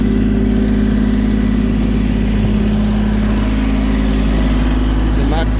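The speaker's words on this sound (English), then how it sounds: "Give it some RPMs." A 1-ton LS-swapped Jeep CJ project in two-wheel drive holds a steady, loud high-rpm drone, a constant engine tone held near the microphone with a slight shift at the very end.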